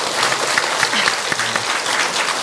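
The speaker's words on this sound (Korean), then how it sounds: "여기서 박수" Church audience applauding together during a testimony event, a dense, steady clatter of clapping that holds at an even level from start to finish, with no talk over it.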